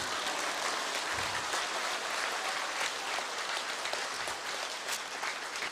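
A steady, dense wash of audience applause at a company presentation fills the whole stretch at an even, moderate level, with no speech above it.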